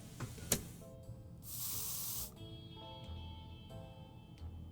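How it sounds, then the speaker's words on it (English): Bug spray used in a video game, a short hissing spray burst in the middle, set among soft game sound effects, clicks and faint tonal hums, fairly quiet overall. "I guess we'll just burn the bug spray"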